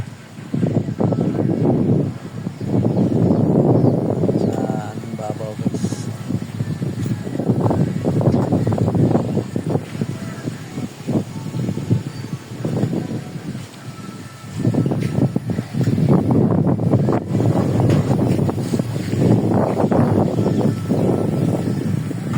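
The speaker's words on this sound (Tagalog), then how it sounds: "Magandang hangin dito guys. Malakas guys." Strong, gusty wind near a beach in the Philippines buffets the microphone in long roaring surges, with brief lulls between blasts.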